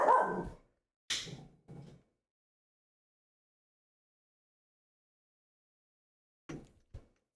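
A puppy gives a few short, faint yips and barks: three quick ones at the start, a long quiet gap, then two more near the end.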